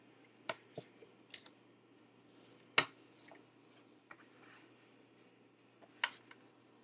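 Small pieces of paper for a black-and-white photo album are folded and creased by hand, making scattered soft rustles and a few sharp crisp snaps, close and quiet with pauses between.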